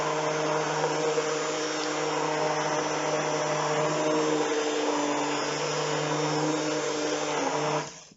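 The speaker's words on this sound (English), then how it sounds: "I'm going to mix it while blending to make sure all the product is totally blended through" A blender runs steadily, blending butternut squash and sweet potato soup, a loud, close, continuous motor whir that holds its pitch for several seconds before cutting off abruptly near the end, with no voices.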